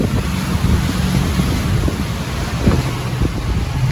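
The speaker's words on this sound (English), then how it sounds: "we got some decent wind" Steady wind buffets a microphone aboard a boat at an anchorage, a loud continuous rumbling roar with faint water movement beneath and no voices.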